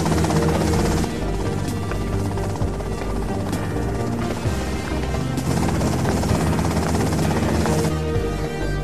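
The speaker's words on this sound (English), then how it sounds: "that's them in the chopper" A helicopter in GTA Vice City drones loudly and continuously with a dense rotor and engine roar, steady and close throughout, no voices.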